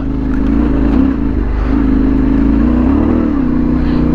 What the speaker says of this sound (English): Hear that back end just spin up